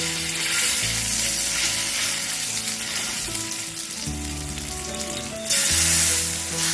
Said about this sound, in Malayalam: ഈ മാരിനേറ്റ് ചെയ്ത് വെച്ചിരിക്കുന്ന ചിക്കൻ പീസസ് ഇതിലേക്ക് വെച്ചിട്ട് ഒന്ന് ഫ്രൈ ചെയ്തെടുക്കാം.